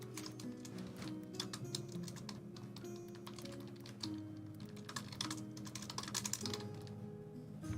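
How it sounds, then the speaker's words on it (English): Steady, rapid typing on a computer keyboard, with close, continuous key clatter running throughout at a constant quiet level over a faint background hum. "And we need to start typing this out."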